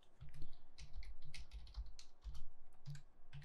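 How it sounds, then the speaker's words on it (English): Rapid typing on a computer keyboard during 3D modelling work, steady close clicking keystrokes in quick irregular bursts, no talking. "Hit W on the keyboard again."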